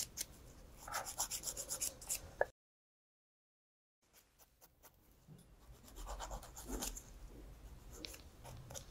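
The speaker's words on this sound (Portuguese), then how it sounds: "venho com a minha lixa" A nail file scrapes around a cuticle in quick, quiet, rhythmic strokes. There is a short stretch of silence, and then softer filing starts up again, with no voices.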